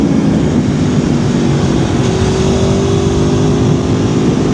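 A 2011 Aprilia Tuono V4R motorcycle engine roars loudly and continuously with its exhaust valve open, a dense, steady, close-up drone lasting throughout.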